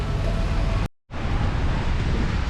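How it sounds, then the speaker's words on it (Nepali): Heavy rain pouring down during a drive toward Canberra, a loud, steady roaring hiss that cuts out abruptly for a moment and then resumes just as strong, with no talking. "अब पानी चाहिँ एकदमै परेको छ है"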